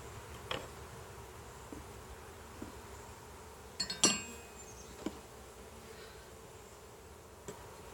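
Honey bees buzz steadily around an opened hive and nuc box during an inspection at a bee ranch, while a few sharp clinks of hive tools and frames cut through the quiet hum.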